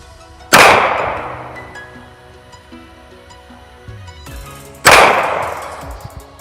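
A SCCY CPX-2 pistol fires two loud, sharp shots about four seconds apart, each cracking close by and trailing off in a ringing decay.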